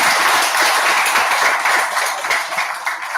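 Audience at a college campaign programme clapping together, a dense, continuous patter of many hands, fairly loud and even throughout with no talking.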